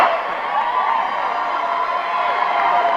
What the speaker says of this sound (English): a well-deserved ovation